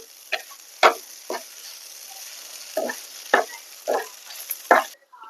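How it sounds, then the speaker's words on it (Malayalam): Prawn thoran is stirred in a pan, with a spoon scraping in about eight distinct strokes over a quiet, steady sizzle, close and unaccompanied by speech. "ഒന്ന് ഇളക്കി കൊടുക്കാം"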